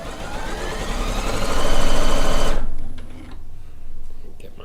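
An Allegro sewing machine stitches a quilt top seam at a quarter-inch with a 2.5 mm stitch length, running in a steady, fast whir for a few seconds before stopping abruptly, leaving quieter room sounds.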